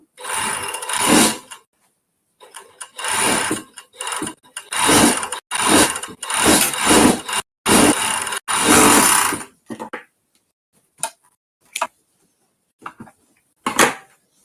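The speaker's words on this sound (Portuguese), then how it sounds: "Então, a gente passa um overlock aqui." An overlock serger runs along a fabric edge in several loud mechanical bursts of rapid stitching, separated by pauses and followed by a few shorter clicks and brief runs near the end.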